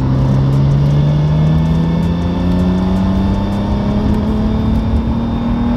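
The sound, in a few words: BMW N54 engine at full throttle in fourth gear, misfiring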